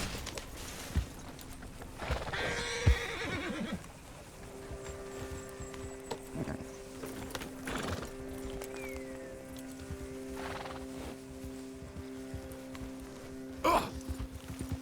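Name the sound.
horse whinnying and hooves, video game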